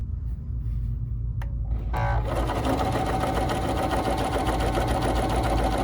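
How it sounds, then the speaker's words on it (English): A BERNINA 3 Series sewing machine stitches a decorative tulip pattern: near silence, then from about two seconds a loud, close, steady, fast whirring and stitching that runs on without a break and with no talk. "you can slow that down if you would like to be able to sew a little bit slower"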